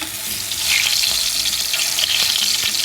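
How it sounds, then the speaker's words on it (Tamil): Brinjal sizzling in hot oil alongside mustard seeds popping in a pan, a close, steady hiss with faint scattered crackles throughout. "கத்திரிக்காய் நல்லா சத்தம் போட ஆரம்பிச்சிருச்சு. அண்ட் அதே போல் அந்த பக்கம் கடுகும் பொரிய ஆரம்பிச்சிருச்சு"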